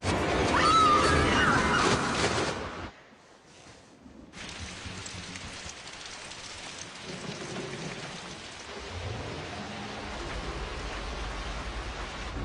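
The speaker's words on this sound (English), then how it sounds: "It's an incredible amount of rain." A heavy rainstorm in the 2003 film Identity, with a dense roar of downpour. The rain cuts out abruptly for a moment, then returns as a steady, hissing wash of falling water with low rumbling underneath.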